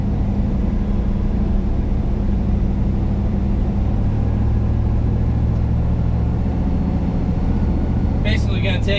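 A ZR1500 truck fitted with an XS muffler cruises along, its exhaust giving a steady deep low-toned drone and road rumble throughout, with a brief chime near the end.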